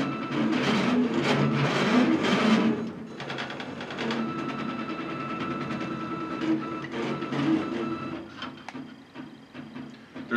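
NEMA17 stepper motors driven by an Arduino move a Cartesian 2D plotter, giving a buzzing whir that rises and falls in bursts, with steady tonal hums between the moves, close and moderately loud.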